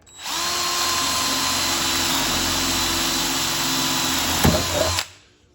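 An electric drill fitted with a wood bit runs at full throttle while boring into wood, a steady loud whine lasting about five seconds before it cuts off with a couple of clicks.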